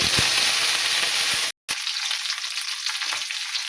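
Mustard seeds, garlic and curry leaves frying in hot oil, a loud dense sizzle with crackles that cuts out briefly, then returns as a softer, thinner sizzle.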